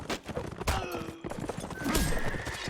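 A horse neighs and hooves clip-clop in a competitive video game match, with layered game effects and a sharp crash or impact mixed in, fairly loud and busy.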